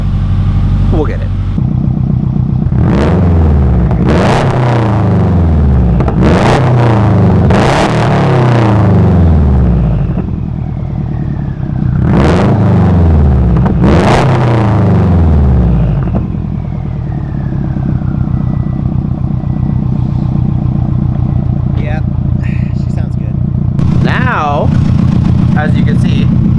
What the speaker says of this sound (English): I'm gonna let it warm up a little bit, possibly give it a few revs